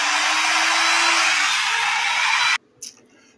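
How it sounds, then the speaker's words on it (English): Angle grinder running on a free-energy setup outdoors in bright sunlight, a loud steady high whine that holds for a few seconds then cuts off abruptly, followed by a brief faint knock. "we will see if we get now an angle grinder to run"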